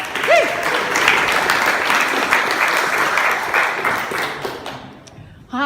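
An audience at a pitch event claps and cheers steadily, welcoming a presenter named Lily onto the stage. The applause is dense and sustained for about five seconds, then drops away quickly.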